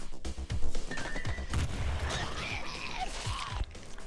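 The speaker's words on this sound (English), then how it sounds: "Grenades do some serious damage" Grenade blasts and rapid combat fire in the turn-based game Stellar Tactics, a clustered burst of sharp cracks and booms over a few seconds, with no talking.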